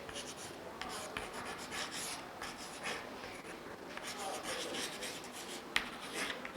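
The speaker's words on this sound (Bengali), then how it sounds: "আমি লিখে দিচ্ছি," A teacher writes during a Class XI political science lesson, probably chalk or pen scratching across a board, a steady run of short scrapes and strokes, fairly faint, with no one speaking.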